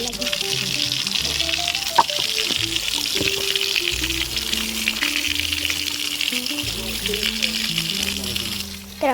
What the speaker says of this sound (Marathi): इथं पाय धुवायला लागेल.